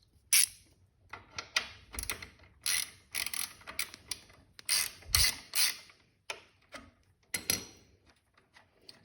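Wrenching on a 2003 Honda RC51 shift assembly, with an Allen key working the fasteners loose. Close, crisp metallic ratcheting clicks and clanks come in irregular bursts with short quiet gaps, and no one speaks.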